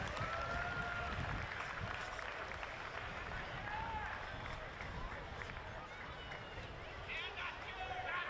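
Applause for the match officials at the FQPL 1 Women's Grand Final, Olympic FC vs Caboolture Sports FC: a steady wash of crowd clapping and stadium hubbub, continuous and fairly distant throughout, with murmuring voices blended in.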